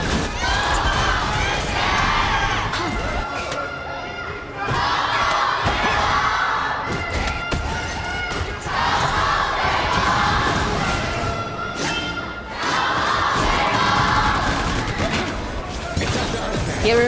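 Esports arena crowd at the Honor of Kings World Cup grand finals cheering and roaring in loud swelling waves, with a caster talking over the din.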